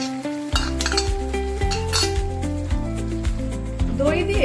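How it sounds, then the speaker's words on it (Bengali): Whisked sour yogurt stirred into a pan for paneer: a spoon clinks and scrapes repeatedly against the metal in quick succession, close and fairly loud, with a faint soft sizzle underneath and no talk. "দই দিয়ে ভালো করে নাড়তে হবে যাতে দইটা কোনোভাবেই ডেলা পাকিয়ে না যায়"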